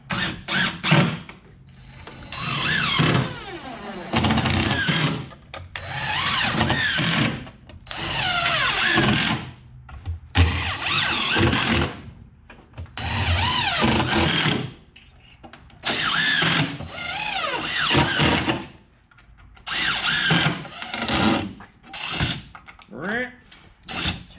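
A power drill drives screws into Coosa board, a composite panel used in boat building, with a series of close, loud whirring bursts that rise and cut off, separated by short pauses.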